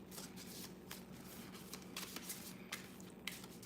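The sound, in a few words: shuffling cards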